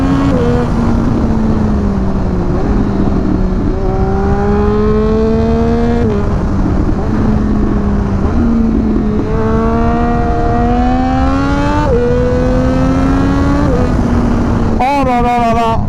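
A Triumph Daytona 765 Moto2 motorcycle screams as its engine revs high, climbing repeatedly through rapid gear changes with short dips between pulls, loud and close over constant wind roar.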